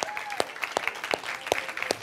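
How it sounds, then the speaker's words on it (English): Church congregation applauding at a Baptist church service, a steady spread of clapping with several sharper claps standing out, moderately near and filling the whole moment. "We should give her a round of applause."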